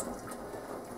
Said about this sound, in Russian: Вот такусенькая, тонюсенькая струйка у меня бежит